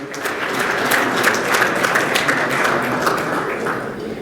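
Applause for college scholar-athlete teams at an awards celebration, a dense, steady crowd clapping that is loud and sustained throughout without a break.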